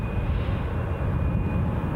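A Loganair airliner's engine drones steadily at Newcastle International Airport, a continuous broadband roar with a faint high whine, heard from a moderate distance without speech.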